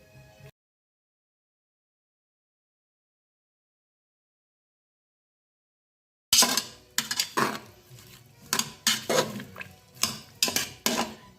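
Homemade tomato ratatouille is stirred in a Cookeo pot, with a spoon clinking and scraping in a quick irregular series of close strokes that begins after a long silence.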